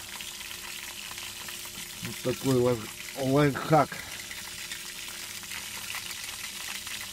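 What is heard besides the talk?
raw pelmeni dumplings frying in a pan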